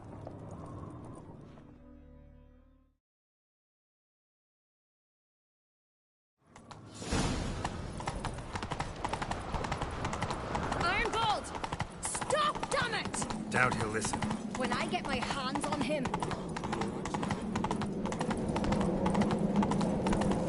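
Horse hooves gallop in The Witcher 3: Wild Hunt during a Skellige chase, with rapid, loud clip-clop running steadily after a short silence, and a voice speaking briefly before it.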